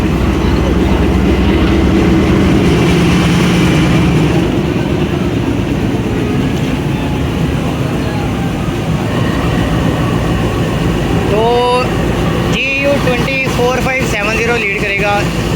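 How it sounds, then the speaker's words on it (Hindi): A General Electric universal diesel locomotive, a 2000 HP American-built engine with six traction motors, rumbles loudly and steadily while hauling a special passenger train out of Lahore. Faint voices come in near the end. "GU24570 लीड करेगा, जनरल इलेक्ट्रिक यूनिवर्सल लोकोमोटिव है"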